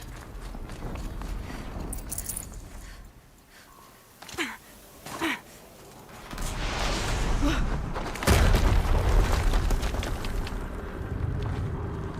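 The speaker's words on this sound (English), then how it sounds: "Another explosion." Explosions in the video game Horizon Zero Dawn Remastered: two short blasts in quick succession, then a louder, sustained rumbling boom with heavy low-end roar that lingers under game background noise.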